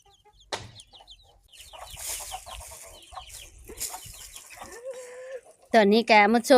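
Farm chickens cluck on and off at close range, with people talking in between, ending in a burst of loud, rapid clucking.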